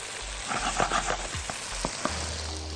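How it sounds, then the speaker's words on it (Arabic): Red onion for fajita pasta sizzles steadily in a pan while being stirred, with scraping strokes and soft crackles over a continuous close, bright frying hiss. "وتقليبه كده بصل الفاهيتا، دايما بصل احمر احلى"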